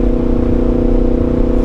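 Yamaha MT-10 motorcycle engine holding around 3,800 RPM, giving a loud, steady, rich droning hum that stays even throughout with no speech.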